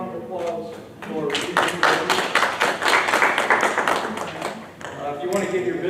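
At a contractors' seminar on Texas liens and bonds, a room of attendees breaks into brisk, dense applause that swells and fades, with talking just before and after.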